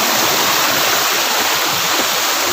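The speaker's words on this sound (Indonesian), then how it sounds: "ini udah nyampe di air terjun" A waterfall in dense forest roars with a loud, steady rush of falling water that fills the whole short stretch without a break.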